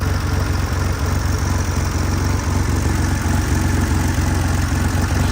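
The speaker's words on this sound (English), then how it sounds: "I think it probably has got a very slight exhaust blow from the centre box, but performs very well indeed." A 1980 BMW 635 CSi E24 with automatic gearbox idles steadily, its engine giving an even low rumble with a regular pulsing beat throughout, close and fairly loud, the exhaust carrying a very slight blow from the centre box.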